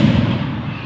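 A single firework bursts at a public display in Saltford, a heavy low boom that fades over under a second.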